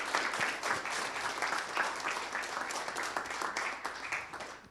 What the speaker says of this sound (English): Did you hear the applause?